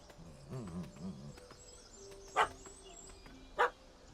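In The Witcher 3: Wild Hunt, a dog barks at a cat up a tree: a few soft yips early on, then two sharp, louder barks spaced about a second apart, with faint background ambience.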